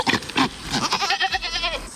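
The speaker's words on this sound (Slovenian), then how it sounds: "Koza." A goat gives a mating call, a loud, close, wavering bleat repeated in quick pulses, standing alone without talk.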